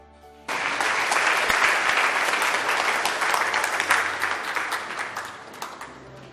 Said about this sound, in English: A round of applause for Martin.